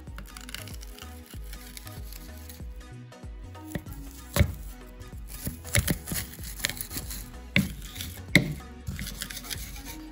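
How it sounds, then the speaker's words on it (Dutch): Two garlic cloves minced with a knife and a piece of ginger grated for a salmon teriyaki sauce: quick rhythmic chopping taps on a board, then scraping rasps with a few sharper knocks, close and moderately loud. "We maken 2 teentjes knoflook even fijn en we raspen een stukje gember."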